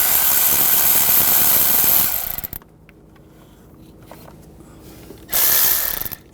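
A ratchet loosening the starter bolts on a 2007-2013 BMW X5 3.0L inline-six: rapid, loud clicking bursts, close up, broken by a quiet gap in the middle, with no one talking.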